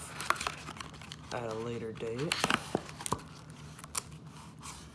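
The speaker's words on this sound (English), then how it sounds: "I'm probably only gonna open half of this box right now" Foil trading card booster packs for the Rebel Clash set being handled and crinkled as a box is opened, with bursts of crinkling and tearing alongside someone speaking.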